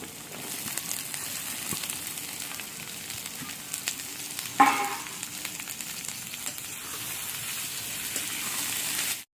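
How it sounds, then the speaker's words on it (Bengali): Sliced onions fry in oil in a pan, a steady close crackling sizzle with a sharp burst midway as more goes in, then continuing evenly until it cuts off, no talking. "পেঁয়াজটাকেও ভেজে নেব"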